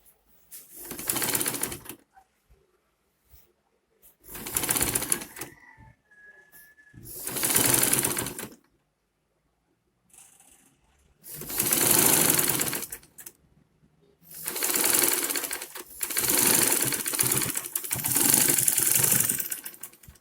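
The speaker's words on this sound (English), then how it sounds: "So that is where I'm sewing right now." A sewing machine stitches a fabric face cap in five or six separate bursts of fast, buzzing motor rattle. Short quiet pauses fall between the runs.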